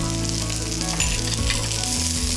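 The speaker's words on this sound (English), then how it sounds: "Saute the onions until they're light in color." Onions sauté with cumin seeds and salt in a pan, giving a loud, even sizzle with a few stirring scrapes over a faint tonal background.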